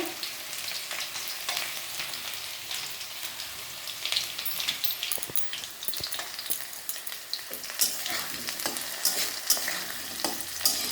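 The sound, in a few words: frying and stirring potatoes in a pan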